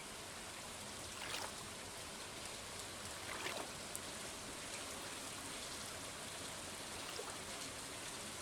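Steady rain falls in the Stardew Valley farming game during a fishing outing, a constant soft hiss with a few brief brighter drip-like accents, alone with no talk.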